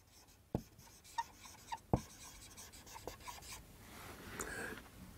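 Pen writing on paper, several sharp taps and short scratchy strokes, close and fairly quiet, followed by a longer run of steady scribbling with no talk.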